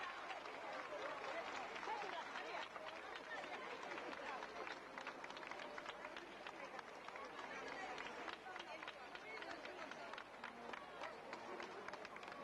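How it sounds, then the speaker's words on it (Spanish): A festival crowd applauds for an honor attendant at a 1993 senior queen pageant, steady dense clapping that runs continuously and fairly loud throughout, with faint crowd murmur underneath. "Un aplauso para ela."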